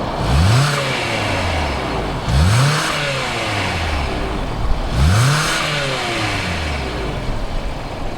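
A 2019 Hyundai Tucson Limited SUV's 2.4 liter engine starts and revs three times in quick succession, each climbing and falling in pitch, with a steady idle rumble between the bursts.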